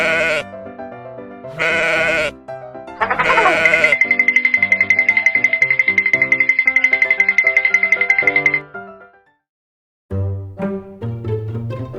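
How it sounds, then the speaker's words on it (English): A goat bleats in several loud, close wavering calls, the longest one quavering for several seconds, followed by a pause and then short tonal chiming notes. "Goat."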